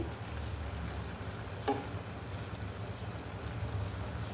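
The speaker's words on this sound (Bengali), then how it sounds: "কিছুক্ষণ রান্না করার পর দেখুন কাচকি মাছ থেকে পানি বের হওয়া শুরু হয়েছে। আমি আলতো করে নেড়ে চেড়ে দিচ্ছি।" Small kachki fish cook in a pan with a steady soft sizzle and bubbling, with one brief scrape as they are gently stirred; no voices.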